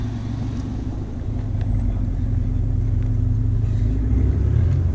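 A Dodge SRT4 idles at a race night with a steady, loud low rumble that swells slightly toward the end. No speech is heard.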